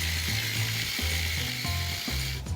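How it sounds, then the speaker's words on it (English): Chopped onion with fresh rosemary sizzling steadily in a hot pan, a continuous bright crackle with a low rhythmic clatter of the pan underneath. "I'm gonna put this onion in with the rosemary."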